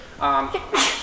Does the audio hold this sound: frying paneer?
no